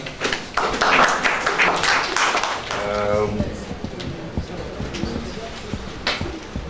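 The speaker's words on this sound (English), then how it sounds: "With a round of applause onto the podium" Audience applause greets a speaker coming onto the podium at a business tour event, a dense burst of clapping in the first few seconds that thins out, with voices and murmur running underneath.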